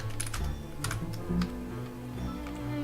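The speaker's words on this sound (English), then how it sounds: "So you type in a username." A username is typed on a computer keyboard, a rapid run of close, sharp key taps over a faint steady background hum.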